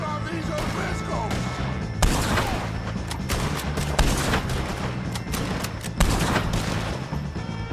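Rapid gunfire fills a Red Dead Redemption 2 shootout against O'Driscoll gang members: dense overlapping shots and cracks, with several louder bursts standing out over continuous firing.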